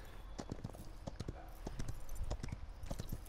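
A horse mount gallops in the video game Paladins with rapid, rhythmic clip-clop hoofbeats under faint game sounds, fairly quiet overall.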